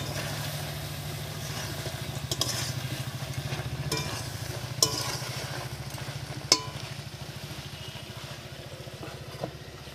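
Potatoes and cauliflower sautéing with spices in a pan, giving a steady low sizzle with a few sharp scrapes and knocks of the spoon at intervals, close and without talk.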